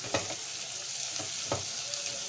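Ingredients for lamb stew frying and being stirred in hot oil, a steady close sizzle with a few soft scraping stirs over about two seconds, no talk.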